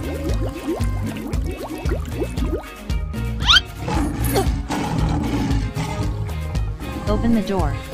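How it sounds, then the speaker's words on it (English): A lion roars inside a door-choosing video game, its growl rising among busy game music and effects while a player talks excitedly over it. "Lion."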